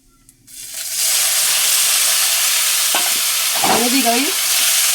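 Cockscomb greens are tipped into a kadai of hot oil already holding reddened chili and garlic. After a quiet moment, a loud, close sizzle erupts and holds steady, with a few scraping stirs partway through.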